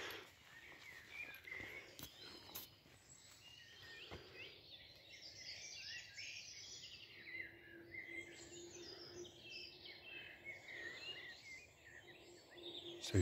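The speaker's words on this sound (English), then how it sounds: "So far, mostly just blackbird, song thrush, little burst of chiff chaff a moment ago, robin." Pre-dawn birdsong in June, with blackbird, song thrush, chiffchaff and robin singing: overlapping warbles, trills and chirps at a moderate distance over a faint background hiss, with a few soft clicks or handling noises.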